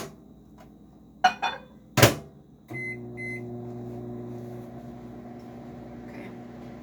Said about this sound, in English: put it in a bowl to microwave it completely melted.